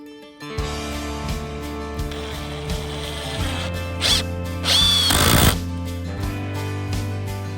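A power drill drives screws into steps being built on a box truck camper, whirring steadily with the motor pitch rising and falling and brief louder bursts as the screws seat, close up and with no talking.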